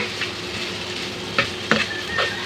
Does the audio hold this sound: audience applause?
no